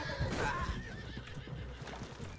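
A horse whinnies loudly in the RedM western roleplay game, a rising high neigh followed by a few hoof clops, close and clear with no talking over it.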